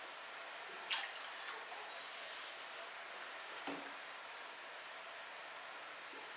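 Pottery glaze pours from a pot in a studio, giving a steady, soft liquid rush with a few brief splashy drips near the start, fairly quiet and without speech.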